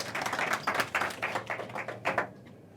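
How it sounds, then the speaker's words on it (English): Audience applause for a panel at a learning event, a modest spread of hand claps at moderate distance, steady for a couple of seconds before tapering off, no voices. "So a big round of applause,"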